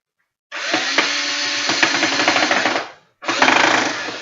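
A power drill drives a screw into wood in two bursts, a long steady whir of about two and a half seconds, a brief pause, then a second shorter run, loud and close.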